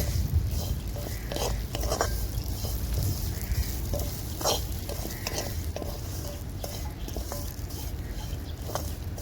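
Cashew, almond and raisin pieces sizzle and crackle in hot ghee in a pan on a wood-fired stove, a steady near frying hiss broken by occasional scrapes and stirs.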